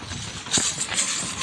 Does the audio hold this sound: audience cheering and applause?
no